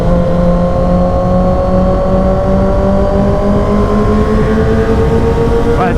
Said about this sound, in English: We did a little bit of a rev off